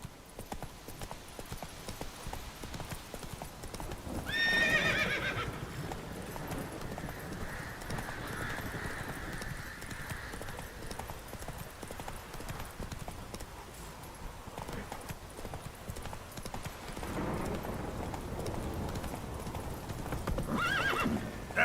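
Roach, the horse in The Witcher 3 video game, trots with steady clip-clop hoofbeats throughout, with a loud whinny near the start and softer neighing later, all without speech.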